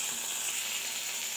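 Chickpeas and paneer frying in a pan, a steady, close hiss of sizzling oil that holds without a break for a brief moment.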